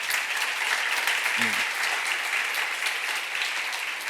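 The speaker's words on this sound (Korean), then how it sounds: "감사 박수를 한번 쳐봐요" Steady applause from a church congregation fills the space for several seconds at an even, dense level, with a brief low voice murmur partway through.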